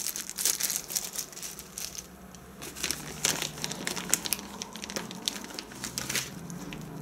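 A plastic pouch from a TK102 GPS tracker package is handled and crinkled, giving a close, steady stream of crisp crackles and rustles that come in uneven bursts throughout.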